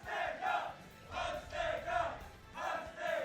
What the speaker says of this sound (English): die Crowd chanted für Hans Degger